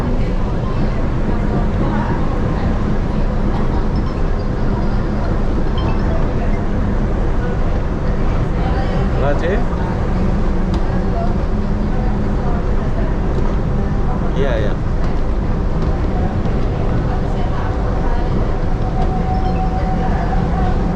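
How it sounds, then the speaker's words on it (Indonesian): A monorail train in Kuala Lumpur rolling between Chow Kit and KL Sentral, heard from inside as a loud, constant rumble and hum throughout, with a voice talking over it. "aku lagi di monorail nih"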